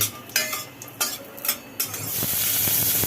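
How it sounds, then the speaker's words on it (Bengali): Bori lentil dumplings in a pan: several sharp clinks and scrapes of a utensil against metal, then a rising, steady sizzle of frying that fills the last second, with no talk. "বড়িগুলো ভেজে তুলে নেওয়া হলো"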